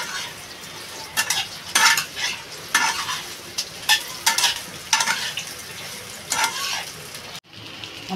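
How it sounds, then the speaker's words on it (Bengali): Soybean chunks fry in hot oil with a steady close sizzle, broken by repeated bursts of stirring and scraping in the pan, and a short cut near the end. "আমি সয়াবিনগুলো ঢেলে দেবো। সয়াবিনটা একটু লাল লাল করে ভেজে নেব"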